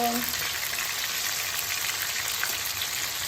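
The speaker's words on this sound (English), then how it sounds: "So guys, I am frying the fish." Steady hissing crackle of fish frying in hot oil, a constant dense sizzle with no pauses, close by.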